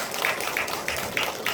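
A church congregation claps in welcome, a dense wash of many hands with regular pulses of stronger clapping, fairly close and without talk.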